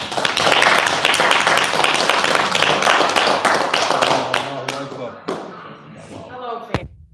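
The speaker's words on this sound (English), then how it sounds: "So let's give her a round of applause." A conference audience gives a speaker a round of applause after her talk on gentrification: dense, loud clapping from many hands that holds steady for several seconds, then thins and tapers off near the end.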